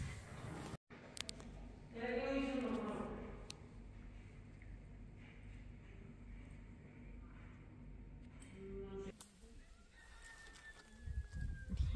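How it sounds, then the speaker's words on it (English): A rooster crows faintly in the distance near a washroom along the Camino de Santiago trail, one drawn-out call rising over a soft ambient background. "Hear the rooster?"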